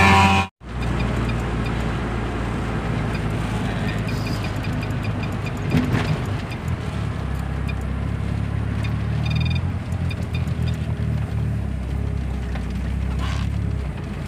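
Mercedes engine with a newly installed fuel pump running steadily, limited to 6000 rpm while still breaking in, a continuous low rumble with brief rises in revs, heard close up.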